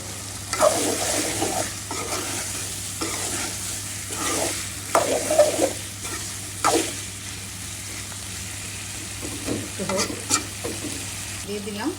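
Tomato goes into a pan of mola fish and potatoes, and the mixture frying in oil gives off a close sizzle broken by repeated scraping and stirring strokes at an uneven rhythm; no voices.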